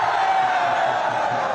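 A large crowd at a Bihar election rally in Jamui roars with dense, continuous cheering and clapping noise, loud and unbroken for a brief moment.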